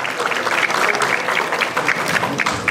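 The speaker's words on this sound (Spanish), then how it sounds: "Fuerte los aplausos, por favor." Vigorous applause from an audience at a municipal ceremony greeting a provincial mayor, loud and continuous with distinct individual claps throughout.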